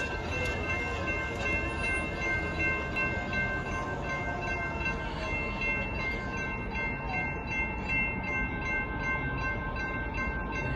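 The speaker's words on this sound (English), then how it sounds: "Here's the Union Pacific train." A northbound Union Pacific mixed freight train rumbles steadily past in Austin, Texas, close and loud, with a continuous heavy roar and faint high metallic squeal throughout.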